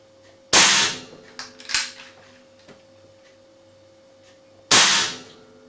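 Two sharp cracks from a Webley FX 2000 .177 air rifle fired with no silencer, a loud report near the start and another about four seconds later, with small metallic clicks and handling noises in between.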